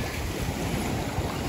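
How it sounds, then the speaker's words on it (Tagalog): Strong sea waves crash and roar in a constant, dense wash with wind buffeting the microphone, loud and close, with no voices. "Lakas yung alon ngayon"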